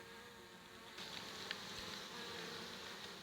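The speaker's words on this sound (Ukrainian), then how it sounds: "Так, почали пчелки заходити." Honeybees buzz steadily around a small nucleus hive used for raising Buckfast queens, a close, continuous insect drone with no talk.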